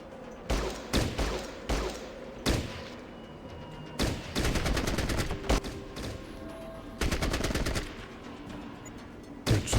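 AK rifle gunfire in the squad tactics game Fallout Tactics: Brotherhood of Steel, short bursts of rapid automatic shots and single cracks separated by pauses, loud and close.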